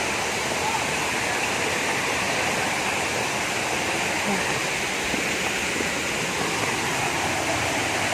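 Water of the Karura River rushing toward the Karura waterfalls in Karura Forest, Kenya, a constant loud broadband roar holding steady throughout with no voices.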